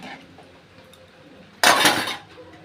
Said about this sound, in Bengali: এবার ঢাকনা দিয়ে ঢেকে দিলাম।